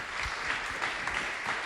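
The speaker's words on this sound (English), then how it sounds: "Let's give her a first really long, warm round of applause" Warm, sustained audience applause for someone speaker at a talk on open radio spectrum, a steady wash of clapping that holds evenly through the moment with faint murmurs beneath.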